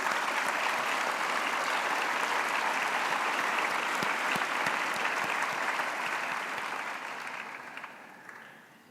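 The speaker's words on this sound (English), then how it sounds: "Can we give a round of applause, please?" A crowd at an outdoor cultural festival bursts into sustained, dense applause for Burundi's independence hero, steady and loud for most of the stretch before gradually thinning and fading toward the end.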